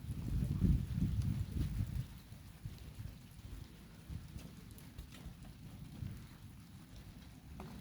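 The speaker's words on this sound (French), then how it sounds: "Un peu de pluie, un peu de fraîcheur avant de subir la tramontane pendant 3 jours." Light rain patters steadily during a strong thunderstorm at Montady, with a low thunder rumble at the start fading away, the drizzle continuing faintly and evenly afterward.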